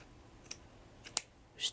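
Scissors snip through craft flower stems for a shabby chic vintage flower arrangement: a couple of crisp, close cuts followed by a brighter double snip near the end, with no talking.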